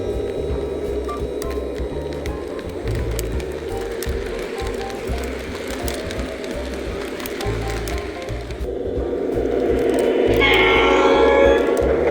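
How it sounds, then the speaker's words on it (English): A small O scale model Christmas train runs continuously with a steady mechanical rattle and rhythmic clicking, growing a bit louder near the end with a faint whistle-like tone. "I think it's time to get this train rolling."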